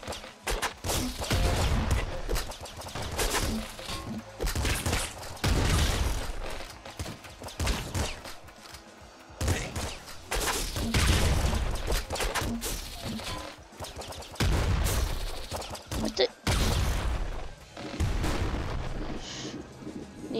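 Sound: shotgun fire in the video game Nuclear Throne

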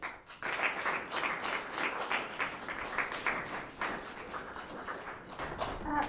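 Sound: applause, clapping

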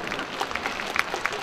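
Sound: audience applause

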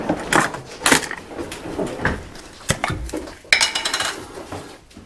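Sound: metal spoon dropped into the washing-up among dishes

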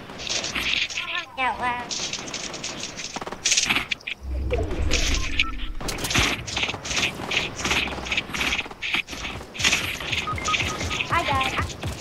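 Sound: gunfire in a video game squad match

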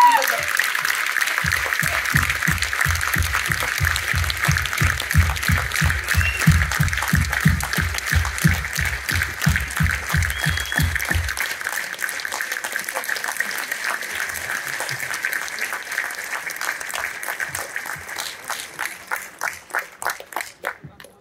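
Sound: loud applause

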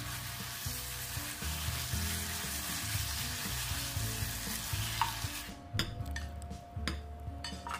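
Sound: stir-frying chicken with vegetables in a pan

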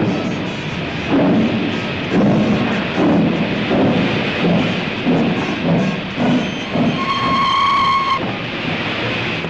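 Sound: Royal Scot steam locomotive departing

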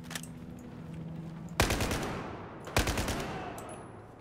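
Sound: machine gun fire in video game Battlefield 4

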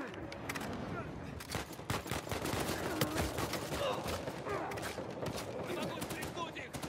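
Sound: gunfire in the video game Uncharted 4 multiplayer

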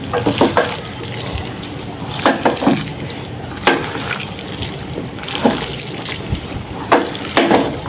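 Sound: water poured into cooking pot

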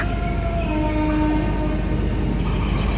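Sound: passing train

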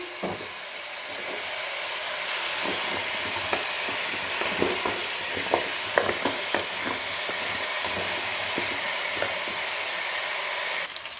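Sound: grated carrots sautéing in ghee for carrot halwa

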